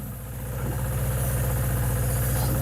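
A Suzuki GS750 motorcycle engine idles close by with a steady, even, low-pitched burble that swells slightly in the first half second and then holds level; no one speaks.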